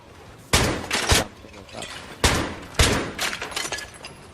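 Single rifle shots fired at objects on a table during an accuracy drill, four sharp loud cracks with echoing tails, spaced irregularly, with shattering debris.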